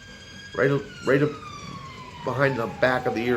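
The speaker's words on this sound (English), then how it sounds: "That's the ambulance." Police siren in traffic outside a hair salon, a wailing rising-and-falling tone drifting past at mid distance, heard under a man's close, ongoing talk.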